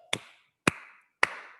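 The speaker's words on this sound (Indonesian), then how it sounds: "Tepuk tangan 4 kali." Three sharp, separate hand claps ring out in an evenly spaced rhythm, each decaying quickly in a quiet room with no talk between them. The claps come from a children's kindergarten class clapping along on command.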